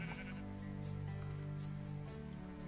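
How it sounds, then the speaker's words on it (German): A red sheep in a video game bleats in a few short, nasal calls over a steady game backdrop of humming tones and soft thuds. "Hier ist ein rotes Schaf."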